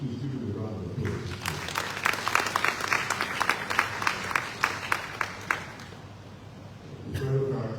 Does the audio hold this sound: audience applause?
yes